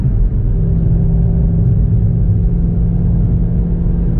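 Ford GT500 V8 exhaust rumbling steadily at close range, a loud continuous low throb with no talk over it.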